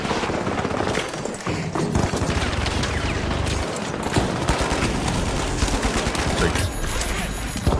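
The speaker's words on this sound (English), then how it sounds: "just ripping it up with a minigun" A minigun fires in a competitive video game match, a dense, unbroken barrage of loud rapid gunfire with other weapon sounds mixed in throughout.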